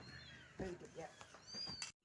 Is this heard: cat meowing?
yes